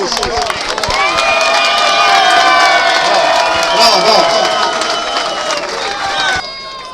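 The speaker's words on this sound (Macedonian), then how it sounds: "Ајде на аплауз." A crowd at a night five-a-side football tournament awards ceremony applauding, cheering and whooping loudly and continuously, with children shouting and voices mixed in.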